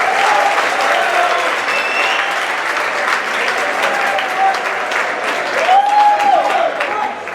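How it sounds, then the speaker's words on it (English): Loud, sustained applause from an audience at a hypnosis show at New Mexico Military Institute. Continuous dense clapping runs throughout, with faint whistles and cheers rising above it. "Keep up that applause one more time for them."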